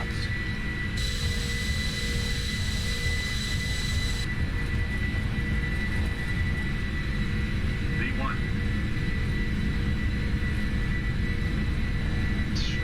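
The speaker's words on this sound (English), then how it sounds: "It's gonna be a quick takeoff run." A PMDG 747-400F AirBridgeCargo freighter in the Prepar3D v5.2 flight simulator makes its takeoff run, with a loud, steady jet-engine roar filling the whole stretch and a faint rising tone partway through.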